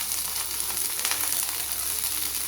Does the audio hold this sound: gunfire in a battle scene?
no